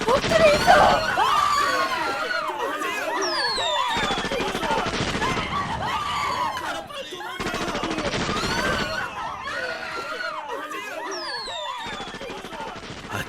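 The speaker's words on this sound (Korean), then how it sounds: "이게 무슨 소리고? 총소리 아이가." Gunfire in a dramatized Korean documentary scene of villagers being told to flee: a few sharp broadband cracks break through continuous shouting and agitated voices, fairly loud and close throughout.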